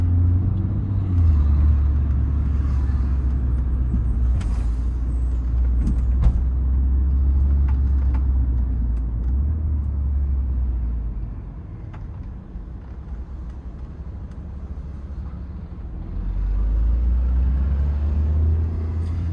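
A BMW M140i drives through chaotic Ajaccio city traffic, its engine a steady low rumble from inside the car that eases off briefly mid-way and then swells again, with faint clicks and ticks above it.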